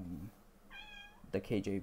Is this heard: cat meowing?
yes